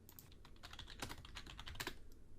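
A burst of quick keystrokes on a computer keyboard, close and clear, as a name is typed in a rapid, slightly uneven patter with no speech.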